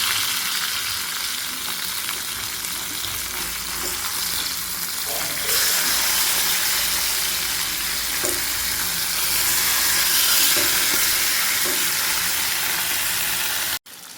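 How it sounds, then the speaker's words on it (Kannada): A masala-coated gore fish fries on its second side in a pan over a low flame, giving a continuous close sizzle that swells slightly midway, with a sharp click near the end and faint talk. "ನೋಡಿ, ಮೀನು ಇನ್ನೊಂದು ಸೈಡ್ ಇವಾಗ ಫ್ರೈ ಆಗ್ತಾ ಇದೆ."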